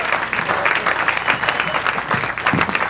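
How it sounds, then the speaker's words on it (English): A comedy club audience applauds a comic, sustained crowd clapping that stays loud and fairly steady, with a few voices mixed in near the end. "Give Rick a round of applause"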